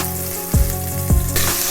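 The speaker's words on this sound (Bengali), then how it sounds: "এভাবে চিকেনগুলোকে ফ্রাই করে নিতে হবে।" Marinated chicken fries in white oil in a wok, a continuous close sizzle with two short louder bursts of spatter, no talking.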